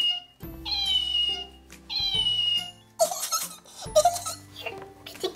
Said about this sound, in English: Do you want to hear it meow?